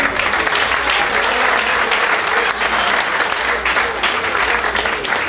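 A large audience applauds continuously and loudly for a blessed family at a church presentation, a dense, steady wash of clapping with faint crowd murmur underneath.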